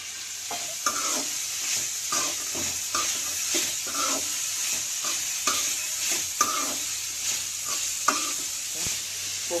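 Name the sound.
frying and stirring in oil for sundakkai chutney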